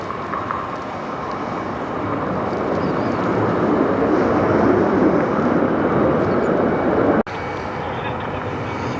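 An airliner lands on runway 21 left at Detroit Metro airport, heard as a steady, loud broadband roar of jet engines and rushing air that swells mid-clip, with a brief gap near the end.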